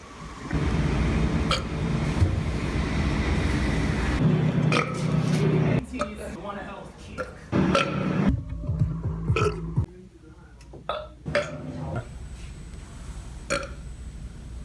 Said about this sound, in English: I've gotten multiple complaints about you belching around the office.